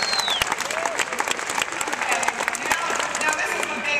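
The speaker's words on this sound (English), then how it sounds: "Now this is the big time to clap." Audience applause fills an address hall, a dense steady patter of many hands clapping throughout, with a few cheers and faint voices mixed in.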